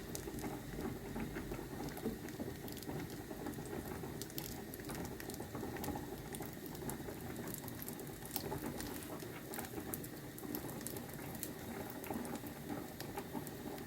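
Eggs poured over a tortilla sizzle and patter steadily in a hot pan, a constant crackling frying sound with no pauses and no voices.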